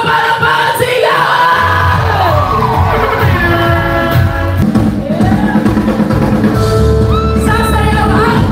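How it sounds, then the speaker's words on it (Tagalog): Rally crowd cheering and shouting, a dense continuous roar of many voices with whoops and yells, loud and sustained throughout with amplified voices mixed in. "Pinakamalakas na palakpakan, sigaw!"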